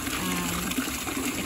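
Water gushes steadily into buckets at a homestead, a continuous close rushing pour that stays even in level for the whole moment.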